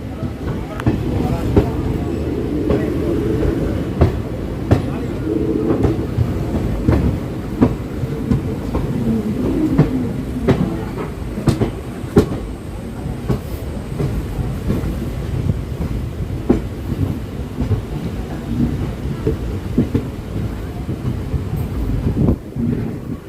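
An ALCO diesel locomotive hauls a train into Nagapattinam station, a steady low rumble and rolling clatter with wind buffeting the microphone throughout, broken by sharp clanks and thumps.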